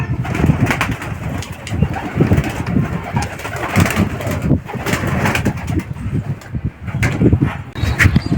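Racing pigeons at a loft coo steadily and close by, a continuous low, throaty murmuring with overlapping calls and no speech.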